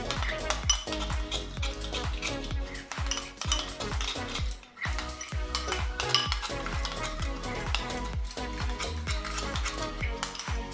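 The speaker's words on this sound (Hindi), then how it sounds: "मलाई के अंदर यानी कि क्रीम के अंदर हमने थोड़ा सा येलो फूड कलर ऐड कर लिया था। अब इसको अच्छे से मिक्स कर लेंगे।" A spoon stirs cream mixed with yellow food colouring for a chicken biryani, giving a steady run of close scraping, clinking strokes against the bowl for the whole stretch, with no one talking.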